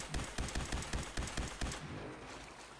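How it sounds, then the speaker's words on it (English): A Gatling laser fires in Fallout 4 as a rapid burst of about seven sharp, evenly spaced shots, then stops and leaves a fading hiss. "I made myself a Gatling laser."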